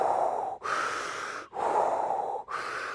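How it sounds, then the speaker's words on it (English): Rapid, continuous hyperventilation breathing, close and loud, with about four deep alternating inhales and exhales and no pause between them. "You hyperventilate, okay? Inhale a lot, exhale a lot, but you don't hold"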